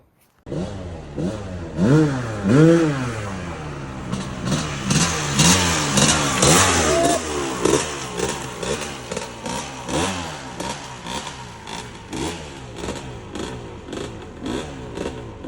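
A 1996 Honda CR250 two-stroke motorcycle in poor running condition starts up and revs repeatedly, sharp rising and falling engine blips close by, settling into a rough idle with further throttle bursts.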